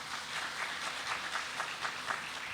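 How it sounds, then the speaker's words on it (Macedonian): Audience applause at a ceremonial academy marking International Nursing Week in a hall, a steady patter of many hands clapping, soft and somewhat distant, without talk. "ќе ве молиме еден аплауз"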